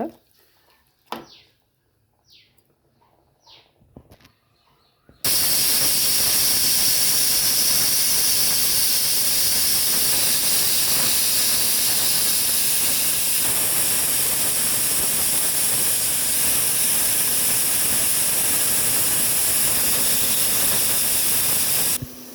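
A pressure cooker cooking vegetable biryani lets out a loud, continuous steam whistle and hiss that runs unbroken for about seventeen seconds, after a few quiet kitchen clatters and some talking at the start.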